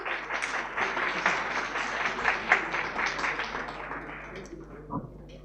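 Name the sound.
loud applause from audience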